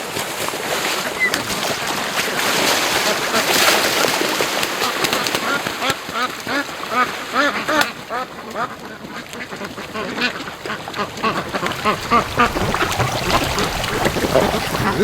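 Muscovy ducks at a lake, several birds quacking and chattering densely and continuously at close range, with a voice talking over them in places.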